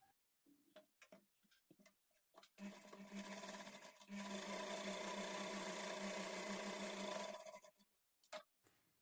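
A sewing machine runs a seam along the edge of a blouse belt piece with its lining at a half-inch margin, a steady close whirring for several seconds that speeds up midway, framed by short ticks and handling sounds.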